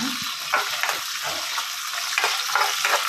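Peanuts frying in a pan, a steady close hiss with intermittent stirring scrapes on top, no voices.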